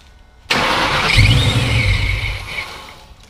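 A supercharged Ford Mustang engine, cranked after sitting without fuel, bursts into a loud, close rumble that holds for a couple of seconds, then gradually fades and sputters.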